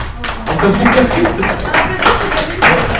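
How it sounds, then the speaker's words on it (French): Classroom applause for everyone who took part, a burst of many hands clapping at close range, loud and dense, with voices talking over it. "On applaudit tout le monde qui est participé"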